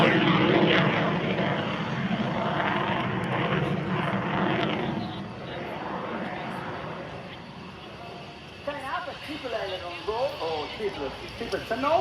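A Dassault Rafale fighter jet flies an aerobatic display at an air show, its loud engine roar sweeping past and then fading, while a commentator talks over the second half.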